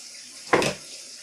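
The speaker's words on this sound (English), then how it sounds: "I'm going to wash my hand." Tap water at a home kitchen sink runs in one short burst, about a quarter second, for hand washing, fairly close against a quiet room.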